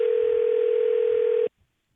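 Steady telephone dial tone holding for about a second and a half before cutting off abruptly, loud and clear with no talk over it, heard during a radio show call.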